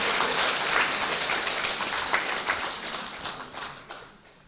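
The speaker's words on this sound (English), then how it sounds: "with a warm, enthusiastic round of applause" An audience at Shandong University of Technology applauds Khenpo Sodargye, a dense, sustained round of clapping from many hands that holds steady and then slowly tapers off toward the end.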